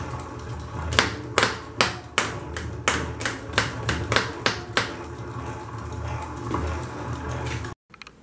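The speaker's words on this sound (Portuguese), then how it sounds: "agora estou usando esse pedaço de borracha para bater aqui nos raios" A rubber piece strikes the spokes of a bicycle wheel driving a small generator, giving a quick string of sharp, evenly spaced taps that gradually loosen into a steady whirring spin.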